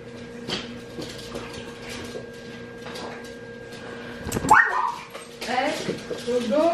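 Dogs playing together give close, high whimpers and sharp little yips, growing louder toward the end, while a person talks over them.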